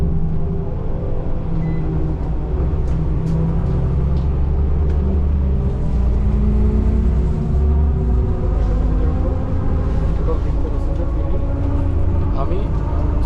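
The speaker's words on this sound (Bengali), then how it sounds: "সাইডের যে রাস্তাগুলো ওটা ধরলো বাসটা।" A bus drives along a road in Sharjah with a loud, steady low engine and road rumble throughout, heard from inside, while a voice talks over it.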